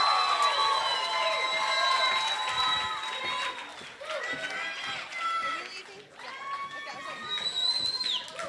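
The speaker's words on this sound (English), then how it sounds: "One more big round of applause." An indoor pageant audience applauds and cheers for the contestants, a steady dense wash of clapping with scattered shouts and whoops that dips briefly and swells again.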